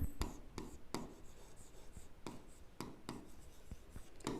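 A pen scratches out an algebra equation with quick, close strokes in an irregular rhythm of short taps and longer scrapes, alone and fairly quiet.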